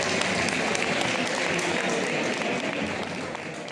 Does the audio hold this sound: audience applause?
yes